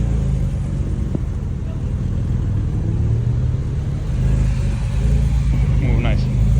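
A Porsche GT4RS race car drives a hot lap on the Nurburgring, heard from inside as a steady, loud engine rumble with road and wind roar. The engine note shifts slightly as the car accelerates.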